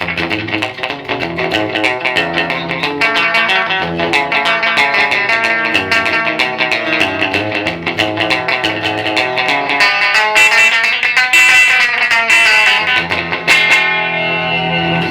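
Distorted electric guitar chords and notes ring out continuously through an Echoplex tape echo, with a lingering repeating echo trailing behind each phrase, loud and dense throughout.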